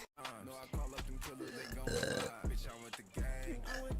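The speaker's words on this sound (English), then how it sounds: "You want me to burp?" A person burps on command, producing a short guttural belch amid lively background music and chatter, close and moderately loud.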